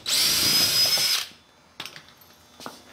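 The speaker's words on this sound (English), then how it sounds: "I'm going to drill out a couple of these rivets real quick just to show you how easy they drill out." A power drill whines loudly for about a second as it bores out an aDP Ultimate rivet, then stops, followed by a couple of faint metallic clicks and taps.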